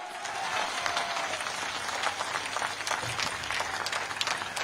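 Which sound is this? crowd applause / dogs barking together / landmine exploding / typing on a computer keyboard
crowd applause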